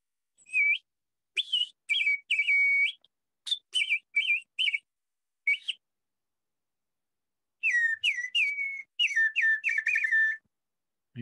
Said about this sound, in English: I also have bird whistles. Just like this one here.